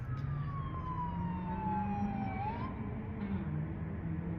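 LAPD police car siren sweeping down in pitch amid a scene with fire trucks and an ambulance in Los Angeles, heard at a moderate distance over a low traffic rumble.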